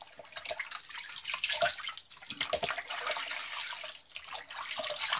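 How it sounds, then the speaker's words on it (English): Hot water splashes and runs as a face is rinsed after shaving, a busy, close watery wash with brief pauses and renewed bursts of splashing at a sink. "that's the hot water rinse"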